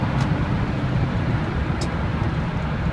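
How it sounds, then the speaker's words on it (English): Steady, loud road and engine drone inside an Infiniti G car cruising on a highway, a continuous low rumble with wind and tire noise and no talking. "One thing that I don't really enjoy about this car so much is how loud it is."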